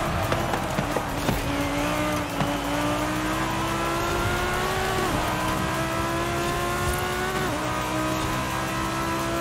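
A Ferrari engine revs hard in the racing game Forza Horizon 5, its pitch climbing steadily through gear after gear with brief drops at each shift, loud and continuous with no talk over it.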